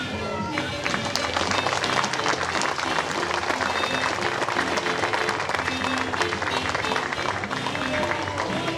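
An audience at a medal award ceremony breaks into sustained applause, dense clapping filling the room at a steady, fairly loud level throughout.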